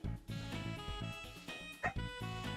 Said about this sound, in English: oh my god, stupid dog